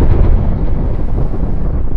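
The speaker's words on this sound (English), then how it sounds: "Add the explosion." A deep, rumbling explosion sound effect is added to a wrestling promo, booming loud and continuous across two seconds of low roar with no speech.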